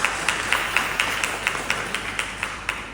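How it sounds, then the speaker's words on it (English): Hands clap at a steady, evenly spaced rhythm for a few seconds at an annual general meeting of a council on ageing in Dominica. The clapping sounds fairly close but light and sparse. "give her a round of applause for that"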